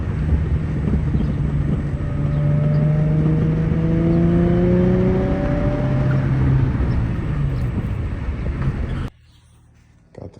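An Infiniti G35 with a VQ engine, PPE headers and a Motordyne catback exhaust revs up and down with rising and falling tones under wind buffeting. The sound cuts off abruptly near the end.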